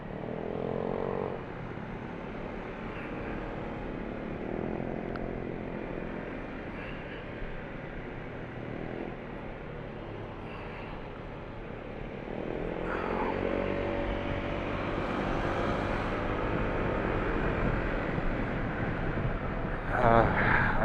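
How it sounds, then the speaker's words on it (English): Motorcycle engine droning steadily while riding, a continuous loud hum with wind that swells toward the end, someone talking over it now and then. "Oh, dang, this bike is loud."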